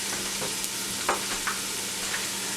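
Onions frying to golden brown in a pan for aloo gosht, giving a steady, close sizzle with a few soft stirring scrapes and no voices.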